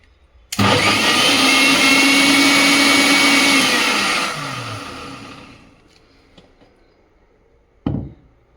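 A mixer grinder whirs loudly as it grinds neer dosa batter with water, running steadily for several seconds before winding down, followed by a sharp knock near the end.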